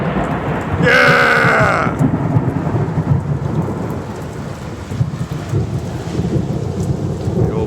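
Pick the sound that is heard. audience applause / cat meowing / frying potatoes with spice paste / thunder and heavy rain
thunder and heavy rain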